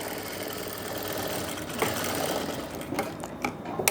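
A sewing machine stitches blouse fabric, running as a steady, close mechanical whir with rhythmic needle clatter and a few sharper knocks toward the end, with no speech.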